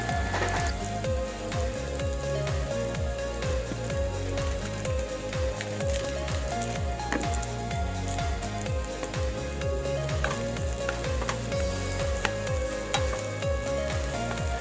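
Food sizzling in a frying pan while being stirred, a dense continuous crackle with rhythmic scraping strokes throughout, close and without talk.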